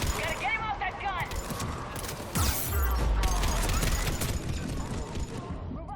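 Heavy shuttle-mounted gun fire in Mass Effect 3, a dense, continuous barrage with booming impacts and mechanical clatter throughout, loud and close.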